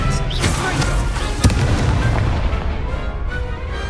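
An Expelliarmus disarming spell cast during a duel in Hogwarts Legacy, heard as a loud burst with a sharp crack partway through, followed by a crackling, rumbling tail.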